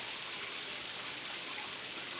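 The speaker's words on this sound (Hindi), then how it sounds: "देखो बारिश हो रही है" Rain falls steadily in a dramatic scene, a dense, even hiss of drops with no breaks and no voices.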